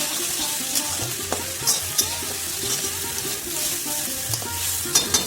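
Loud, continuous sizzling of vegetables with ginger paste frying in a pan, with scraping stirs and occasional clinks.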